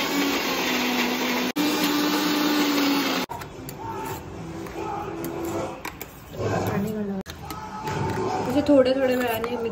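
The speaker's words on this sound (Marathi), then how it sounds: "आपण याला मिक्सर मध्ये घेऊन वाटून घेऊया थोडं थोडं करून" A mixer grinder grinds cooled masala paste for a Khandeshi chicken rassa, a loud steady whirring drone that cuts out briefly and restarts, then runs in shorter bursts with clattering and voices talking over it.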